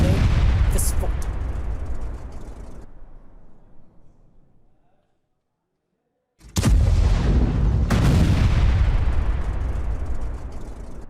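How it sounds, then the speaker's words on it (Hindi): Heavy rumbling blasts roar loudly as a weapons depot explodes after a MiG-29 jet strike, fade into near silence, then a second powerful explosion erupts with sharp cracks and a long rumbling tail. "इसके अटैक के बाद हथियार डिपो में विस्फोट।"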